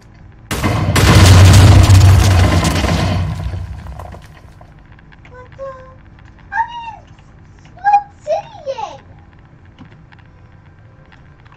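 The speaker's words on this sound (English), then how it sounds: "The final one is blowing up her house with TNT." In Minecraft, TNT planted beneath a house goes off as one loud, close explosion with a long roaring tail. Fainter scattered game sounds follow once it fades.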